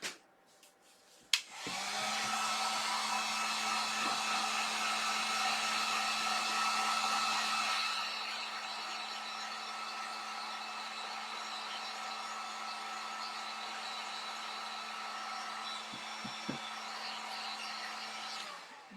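A hair dryer runs steadily for about seventeen seconds while drying a Valentine garland craft for a dough bowl, a loud continuous whoosh that eases slightly partway through, with a click as it starts and stops.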